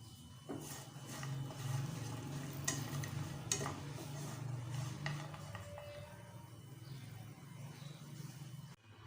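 Dry fruits roasting in ghee for sheer khurma give a low, steady sizzle with occasional stirring clinks and scrapes against the pan, continuous and close throughout.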